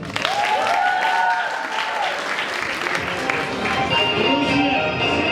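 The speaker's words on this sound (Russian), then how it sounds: "Аплодисменты" A student comedy contest audience applauds loudly and continuously in a hall, with a few whoops and warbling music tones rising over the clapping and faint voices mixed into the crowd noise.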